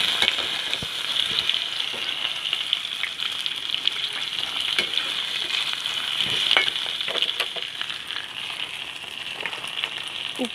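Boiled, peeled taro roots fry in hot oil in a pan, a steady dense sizzle running evenly throughout with scattered small crackles and pops, no voices.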